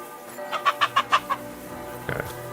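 Chickens in Kingdom Come Deliverance 2 cluck in a quick rhythmic burst of about six close calls, then a short pause before a softer, rougher cluck follows.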